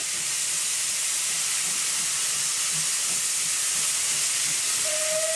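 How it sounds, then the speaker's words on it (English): A steam locomotive shunts around a Yorkshire colliery yard, a loud continuous hiss of escaping steam with faint rhythmic chuffing underneath and a short whistle note at the very end. "here we see it again shunting around the colliery yard"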